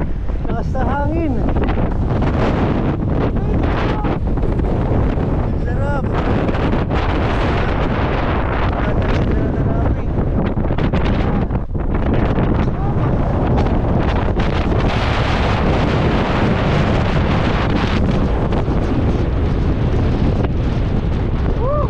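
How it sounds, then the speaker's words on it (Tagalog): Strong wind roars steadily across a microphone on a high mountain trail during off-road biking at Mt. Balagbag, a loud continuous buffeting that goes on throughout, with people's voices and exclamations now and then. "Lakas na hangin."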